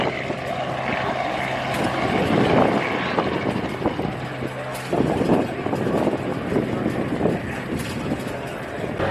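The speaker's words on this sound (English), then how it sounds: "there's a few planes taking off here and there" Propeller planes take off at a fly-in event, with a rising and fading engine drone at a distance mixed with wind buffeting on the microphone and intermittent nearby bumps.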